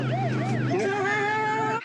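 A close, loud ambulance siren switches from a fast warbling yelp to a rising, steady wail, with engine rumble underneath.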